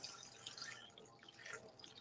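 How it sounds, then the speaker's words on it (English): Tap water from a home RO filtration system pours steadily over a cold brew coffee filter pack to fill a container with 64 ounces, a faint continuous splashing hiss with no voices. "we're going to fill it up with water"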